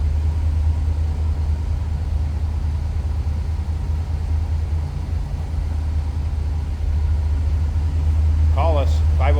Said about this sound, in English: Little rumble coming out of that 350.